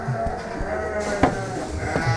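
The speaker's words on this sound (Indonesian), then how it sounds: "Nah, ini kita juga punya domba namanya si Banjar" A Garut sheep, an active fighting ram, bleats loudly and close by in a livestock pen, giving a couple of wavering cries with faint background noise.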